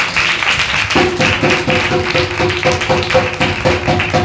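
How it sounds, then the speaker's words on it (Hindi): A church congregation at a Sunday service claps, making a close, loud run of steady rhythmic hand claps over sustained musical tones. "एक बार ताली बजाओ।"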